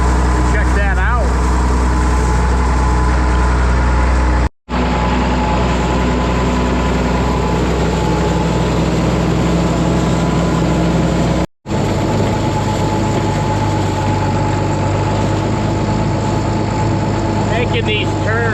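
A heavy tractor engine idles with a steady low rumble close by during straw baling, broken by two brief dropouts.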